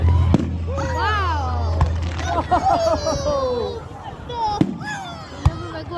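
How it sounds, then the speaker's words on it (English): Fireworks bursting overhead: sharp bangs at irregular intervals with crackling tails, while a crowd cheers, whistles and exclaims excitedly over the display. "These are all fireworks."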